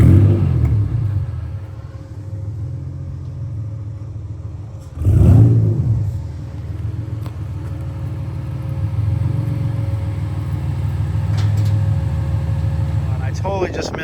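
A J35-powered sandrail drives up a small ramp onto a cut-down, decked camp trailer: a steady close engine rumble with a sharp revving surge around the climb, then continued idling drone.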